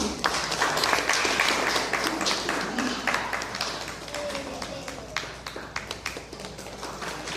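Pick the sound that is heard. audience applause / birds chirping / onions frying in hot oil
audience applause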